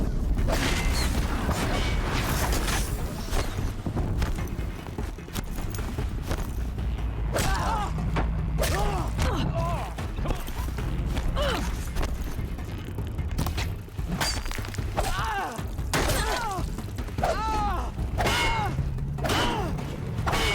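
Machines unleashed during a boss fight in Horizon Zero Dawn: mechanical clanks, creaks, heavy thuds and metallic whirs over a constant rumbling battle din, with brief shouts and voices scattered through.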